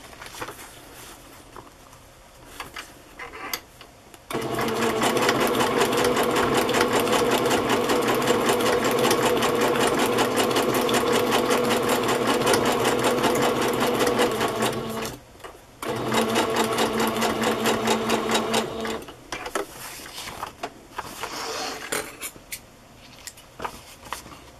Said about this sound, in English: we're going to sew this piece on.